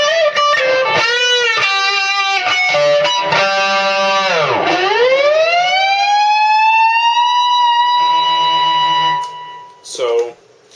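An electric guitar plays through a Peavey Vypyr tube 120-watt combo amp with delay and reverb, notes smearing and repeating, including a sweeping bend that swells then sustains before fading out.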